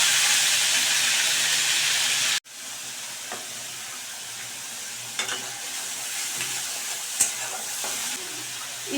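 Onion and spices such as cardamom, cinnamon and cumin frying in oil: a steady sizzle that drops sharply after a couple of seconds, then goes on as a quieter crackle with a few stirring clatters, close up.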